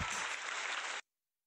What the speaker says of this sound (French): On applaudit la Belgique.